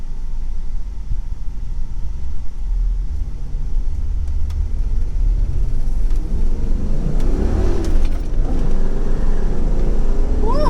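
A 1993 Ford Mustang SVT Cobra driving on the road, low engine rumble building as the car accelerates and revs up, close and steady, growing louder toward the end.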